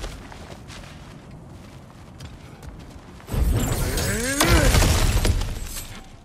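Cracked ground smashing apart in God of War Ragnarok: after quiet ambience, a sudden loud crunching break erupts and rumbles on with debris and a sweeping whoosh, sustained for several seconds before easing.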